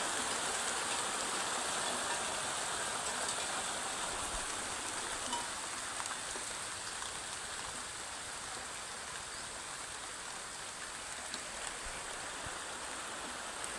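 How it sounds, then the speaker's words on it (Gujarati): Heavy rain pours down steadily, a dense, even hiss of water that never lets up. "સારામાં સારો વરસાદ પડી રહ્યો છે"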